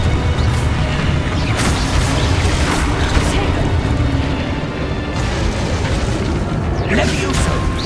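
In Hogwarts Legacy on PS4, the Confringo fire spell sets off a series of booming blasts and crackling bursts, spaced a second or two apart, over dense game ambience and rumble.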